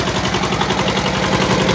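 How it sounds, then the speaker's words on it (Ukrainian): A washing machine motor, rigged as a generator with a capacitor, runs steadily with a loud, dense mechanical hum and rapid rhythmic vibration throughout. "От запустили ми наш двигун."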